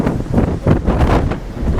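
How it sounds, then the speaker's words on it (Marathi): Strong wind gusts buffeting the microphone on the seashore at Kunkeshwar in coastal Konkan, a loud continuous rumbling roar that swells and dips in surges throughout, with no speech. "हवेचा अंदाज घ्या, किती हवा आहे"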